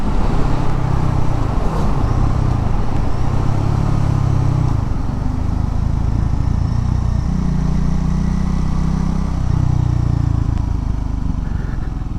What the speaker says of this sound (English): Car coming up fast behind me there.